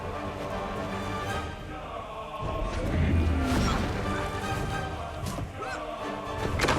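A door being smashed in Guild Wars 2: Path of Fire, heard as a dense, loud crashing impact with a heavy thud near the middle, set against steady game ambience and no clear speech.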